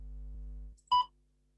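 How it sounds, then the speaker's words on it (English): A single short, clean electronic beep sounds alone after a low hum stops, marking the start of a recorded spoken response in a TOEFL speaking test. "Please begin speaking after the beep."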